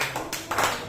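A church congregation claps hands together, a brief run of close, dense clapping with no voices over it.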